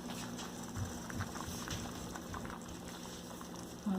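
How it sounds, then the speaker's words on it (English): Filipino-style beef kaldereta simmers in a pot, giving a faint, steady bubbling hiss with small pops throughout and no talking. "wait for a few minutes again to simmer"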